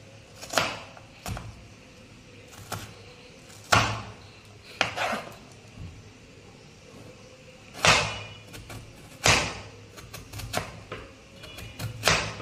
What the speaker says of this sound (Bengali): পেঁয়াজটা এইভাবে কুচিয়ে নিতে হবে।